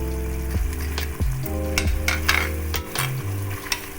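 Jackfruit frying with ghee in a pan for a chorchori dish gives a close, continuous sizzle with stirring scrapes and crackles, over background music.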